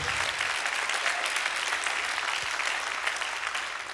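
An audience at a national conference session applauds steadily, a dense, even wash of many hands clapping that holds at full strength throughout, with no talk over it.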